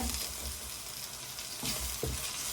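Green chillies and curry leaves stirred into frying onions for koththu roti give a soft, quiet sizzle with a few brief stirring scrapes near the end.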